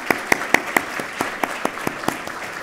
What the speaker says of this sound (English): let's applause, please